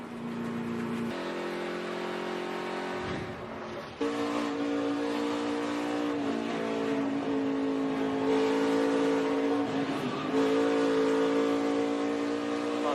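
Stock cars roaring around the track at a 2014 NASCAR race, engines droning loud and steady with shifting revs as the field passes, a brief dip then a renewed surge of engine noise.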